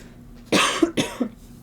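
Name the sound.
person coughing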